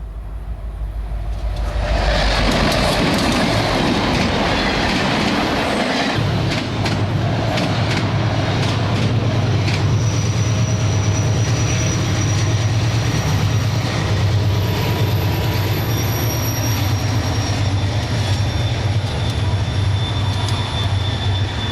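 Union Pacific 844 steam locomotive assisting a stalled freight train up a grade, loud and steady rail rumble with rolling wheel noise and faint squeals, building in after a quiet start.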